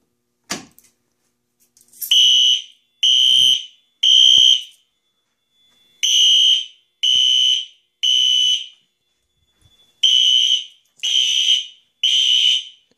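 A loud fire alarm horn strobe blares in short repeated blasts, groups of three separated by pauses, harsh and piercing with nothing else audible, during a fire alarm system test.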